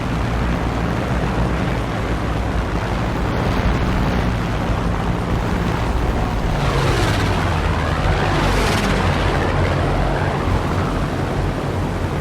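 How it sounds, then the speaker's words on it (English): Torpedo bombers attacking battleships in War Thunder's Pearl Harbor campaign, with a steady loud drone of aircraft engines over a rumbling sea and battle din, and two rising-then-falling engine swells as planes sweep past near the end. "Torpedo bombers attack."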